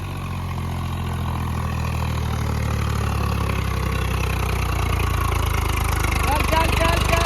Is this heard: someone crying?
no